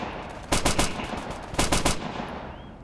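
Two short bursts of automatic rifle fire in Operation Flashpoint: Dragon Rising, aimed at an AT gunner, each a rapid string of four or five loud, close shots about a second apart, with no talk.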